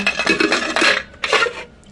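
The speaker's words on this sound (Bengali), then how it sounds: "এই কড়াটা এক্ষুনি বের করে নেব" Metal pots and a wok clatter and scrape in a home kitchen during Bengali cooking, with a few short bursts of clinking and rubbing, close and fairly loud, then trailing off.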